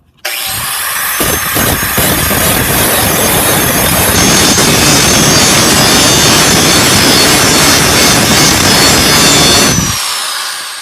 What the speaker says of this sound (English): So I just got done with grinding that off.